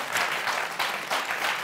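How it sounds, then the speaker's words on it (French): A studio audience applauds on the French TV game show Motus, a dense burst of clapping that swells and eases in waves for under two seconds, with no speech over it. "On vous applaudit, Emmanuel, Romain."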